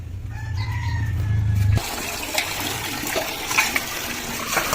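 Running water pours steadily over vegetables such as spinach, cauliflower, cabbage and carrots being washed outdoors before cooking khichuri on a clay stove, a loud continuous rush that starts abruptly after a rooster crows nearby.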